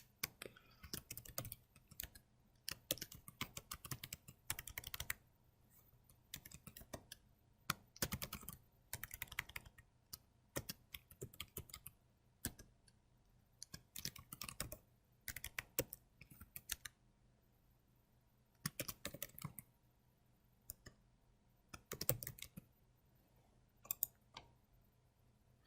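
Computer keyboard typing in bursts of rapid, close clicks separated by short pauses, quiet and alone, with no voices.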